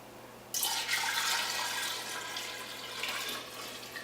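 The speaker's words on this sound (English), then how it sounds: "I'm going to carefully take my tea and pour it into" Homemade kombucha tea pours into a jar in a steady, close splashing stream that starts abruptly and runs for a few seconds before tapering slightly.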